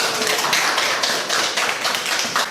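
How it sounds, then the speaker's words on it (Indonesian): Classroom group clapping for the first presenting group, a lively rhythmic patter of several pairs of hands, fairly close and loud, with no talking. "tepuk tangan untuk kelompok yang pertama"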